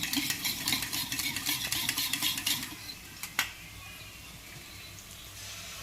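Egg rice being stirred in a pan at home, a spoon scraping and clinking against the metal in a quick back-and-forth rhythm for a few seconds, then a single sharp tap before quieter background.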